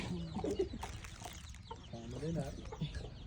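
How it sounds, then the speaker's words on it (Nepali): A chicken clucks softly a few times at close range, short throaty calls in a quiet outdoor setting with faint voices nearby. "हाम्रो कुखुरा पनि छ"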